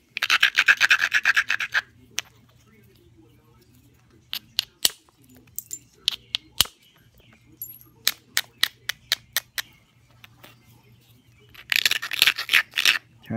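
Stone knapping with a small disc hammerstone striking flakes off a stone edge to form a bevel, heard as a series of sharp, close clicking taps in irregular bursts, with brief scraping rubs at the start and end.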